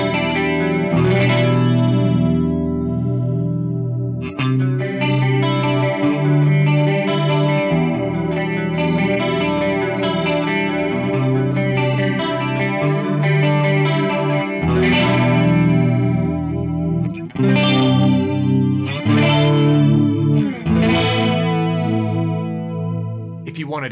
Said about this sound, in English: This is going to create a chorus effect.